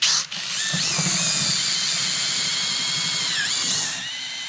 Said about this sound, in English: With my 3/8 bit, we're gonna go ahead and punch these holes through.